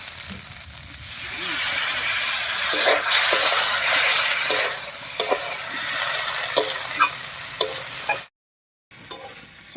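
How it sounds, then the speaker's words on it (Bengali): Potato and pointed gourd being stir-fried in a pan for a vegetarian moong dal dish, with a steady hiss of sizzling and scraping stirring strokes, close and fairly loud, then a brief silence before the sizzle resumes. "আলু পটল দিয়ে একটু নাড়িয়ে নিয়েছি এবার আর একটু জল দিয়ে কষিয়ে নেবো"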